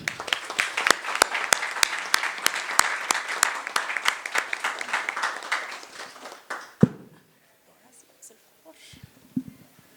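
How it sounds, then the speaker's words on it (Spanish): An audience at a lecture on child support gives a round of applause, with individual claps close and distinct, thinning out and stopping near the end, followed by a few faint rustles and a murmuring voice. "le brindemos un fuerte aplauso"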